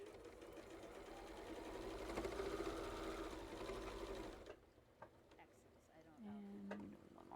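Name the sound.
sewing machine stitching quilt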